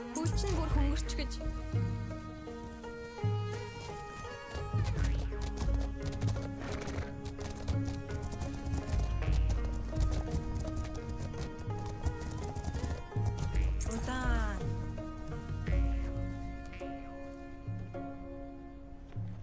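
Horse hooves clip-clop and a horse neighs in the video game The Legend of Khiimori, heard under a constant bed of loud game music with speech-like sounds mixed in.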